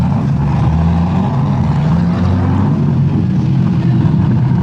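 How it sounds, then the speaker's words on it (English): A loud car passes close by, its heavy low engine roar and rumble filling the whole stretch at steady volume, with no talking over it. "I love loud cars though, but not when it annoys me."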